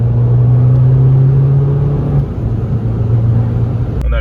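An Abarth 595 Competizione in sport mode pulls hard with a loud, close engine drone and a steady low whir, rising briefly and settling, with no voices.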